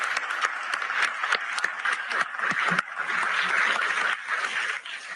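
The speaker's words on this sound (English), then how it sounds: "So please join me in clapping for them." An audience claps for the staff at the Davos event, a dense, steady patter of many hands that runs unbroken at a fairly loud, close level.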